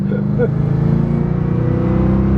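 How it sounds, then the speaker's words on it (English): A Lincoln Town Car's engine drones loudly and steadily, building close by during acceleration, a low rumbling roar that holds throughout the clip. "Engine sounds good."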